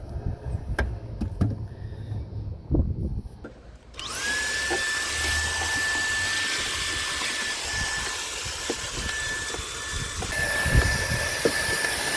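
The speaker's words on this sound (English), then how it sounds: "I'm just going to agitate around the area and hoover it up at the same time." A vacuum cleaner starts up partway through and runs in a loud steady whine while hoovering around the filter area of a Toyota hybrid, after some close handling knocks and rustles.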